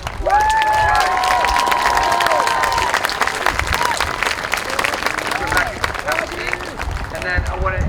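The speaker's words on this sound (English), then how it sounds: "let's give all of our student leadership a big round of applause" A high school band audience at a parent showcase claps and cheers for its student leaders, the dense applause running continuously with scattered whoops and voices mixed in.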